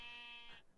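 A sheep in the Minecraft video game lets out a single short, nasal, buzzy bleat, clear and close with no talking over it.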